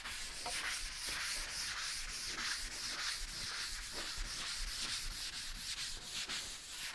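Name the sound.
light sanding of oiled wood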